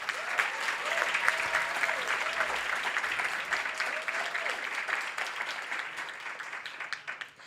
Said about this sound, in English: Un fuerte aplauso para GMC